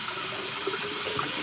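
Tap water pouring into a kitchen sink while dishes are washed: a continuous, close, loud splashing hiss without pause.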